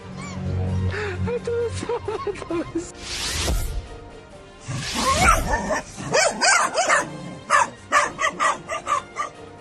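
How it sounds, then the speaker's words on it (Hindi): Six dogs, three of them puppies, bark and yip in repeated sharp bursts while playing around a snake outdoors, loud and close, growing busier toward the end. "एक सांप और 6 डॉगी, बाकी तो 3 पिल्ले हैं जो खेल का मजा ले रहे हैं"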